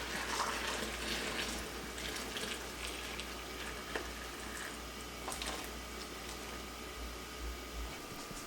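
Hot water pours steadily into a pot for water bath canning peaches, a continuous splashing rush with faint clinks, fairly close and without talk.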